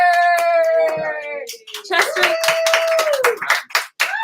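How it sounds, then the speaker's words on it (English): Hands clap in a round of applause at an auction, mixing with a voice that carries a sustained singing-like tone. The claps land as sharp, uneven bursts, near and fairly loud. "big round of applause for Chester!"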